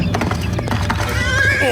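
A horse whinnies loudly at close range over a quick run of clip-clopping hooves, the neigh rising and wavering toward the end of the short burst.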